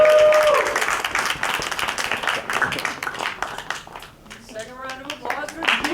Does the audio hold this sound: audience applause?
yes